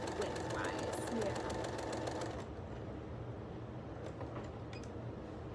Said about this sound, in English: And then back stitching.